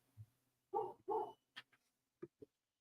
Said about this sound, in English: My dog's hearing me clapping like crazy down here. Now he's going crazy, too.